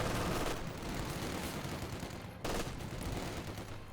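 An anti-tank gun fires during a Company of Heroes 2 battle, with a dense, roaring wash of combat noise and a sharp fresh blast about midway through.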